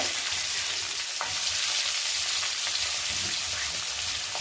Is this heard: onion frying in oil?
yes